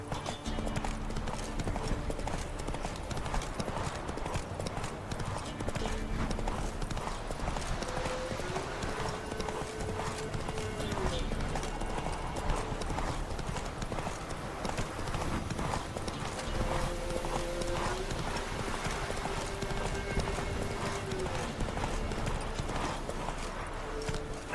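Roach, a horse in The Witcher 3, trots along with a steady, close clip-clop of hooves that continues throughout, joined by an occasional faint whinny over a low background.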